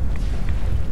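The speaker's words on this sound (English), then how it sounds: "Is he shooting a rocket launcher at me?" A rocket launcher explosion in Fallout 4: a loud, dense low boom with a continuous rumbling roar filling the whole moment.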